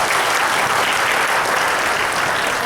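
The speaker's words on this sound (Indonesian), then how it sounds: "Sekali lagi boleh kita beri tepuk tangan yang meriah untuk Pak Kanko." An audience at a Goal Setting 2017 seminar gives sustained, dense applause, steady and loud throughout with no voices standing out.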